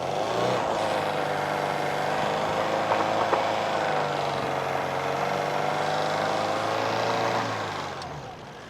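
A go-kart built from an old truck, powered by its truck engine, does a burnout: a steady, loud engine roar holds for several seconds with harmonic whine, then fades away near the end.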